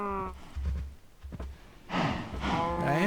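Cattle in Minecraft give several loud, close moos, one low call followed by a longer, rising bellow, with a faint voice underneath.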